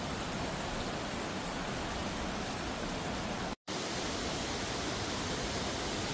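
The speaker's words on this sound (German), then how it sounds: "Da oben ist auch noch ein Wasserfall." A waterfall on Madeira pours in a steady, dense roar of rushing water that fills the whole clip, constant and fairly close, with no voices.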